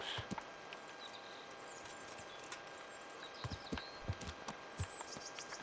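Horse hooves clip-clopping on a path in the medieval game Kingdom Come Deliverance, a faint, uneven series of soft thuds that grows busier toward the end over a low ambient bed.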